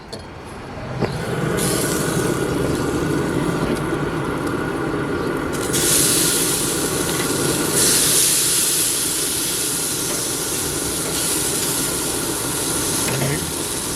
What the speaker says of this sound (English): Now I'm gonna give these things a flip